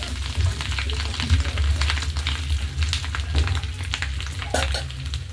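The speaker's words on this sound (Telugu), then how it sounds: "బాగా వేగాలి. సగం వేగింది, ఇంకా కొంచెం బాగా వేగాలి." Fish pieces for a Telugu-style fried fish dish sizzle steadily in a hot pan, a dense continuous crackle with occasional louder pops, close and alone without speech.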